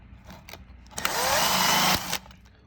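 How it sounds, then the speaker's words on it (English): A power drill with a 1/16 inch bit pre-drills small holes while cabinets are installed in a van conversion: a few faint handling clicks, then a loud one-second burst of high whining drilling that stops abruptly, followed by quiet. "I grab a 16th drill bit, to pre-tap it."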